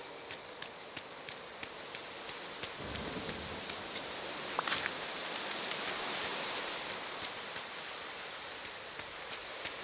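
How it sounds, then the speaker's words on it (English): Steady rain falls in a Disney Dreamlight Valley game scene, a dense even hiss of drops running on alone, with faint scattered ticks and a brief brighter patter about midway. "Oops, it's really raining out."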